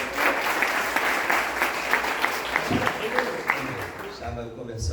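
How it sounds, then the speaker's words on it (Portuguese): A church congregation applauds steadily during a Portuguese-language sermon, a dense, sustained wash of clapping from many hands that fades slightly toward the end. "Você pode aplaudir a Jesus por isso?"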